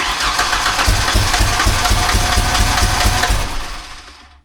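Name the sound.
Ford Ranger pickup engine cranking, trying to start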